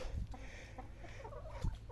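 Young hens in a coop scratch and cluck softly up close, short low clucks and rustling taps at irregular intervals, with a couple of louder thumps.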